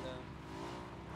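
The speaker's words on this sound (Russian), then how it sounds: "Ко мне тачка едет." A car approaches in a video game, its engine droning with a faint rising tone, fairly quiet and steady through a short stretch.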